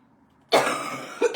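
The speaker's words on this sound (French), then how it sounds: "Excusez-moi, c'est ce temps de l'année où je tousse." A single harsh cough bursts out close by after a moment of quiet, followed by a shorter second cough.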